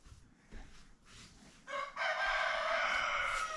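A rooster crows loudly near the end, a long rising cock-a-doodle-doo over quieter clucking from chickens roaming a backyard heard through an open back door.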